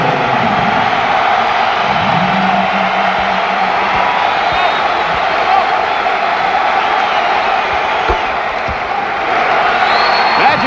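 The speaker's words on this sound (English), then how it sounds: "Crowd on their feet." A basketball arena crowd at a 1996 Golden State Warriors vs LA Lakers NBA game, marking Magic Johnson's return, roars on its feet. The loud, sustained cheering fills the space with scattered whoops, and commentators talk over it.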